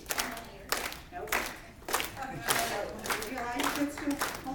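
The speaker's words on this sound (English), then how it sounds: "Okay, we're going to start clapping." A group of people claps hands together on a steady beat, about two crisp claps per second in a room, with a voice speaking faintly underneath.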